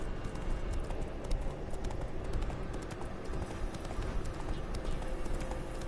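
Horse hooves galloping in The Witcher 3 video game, a steady clip-clop rhythm running continuously over a dense bed of game ambience at an even, moderate level.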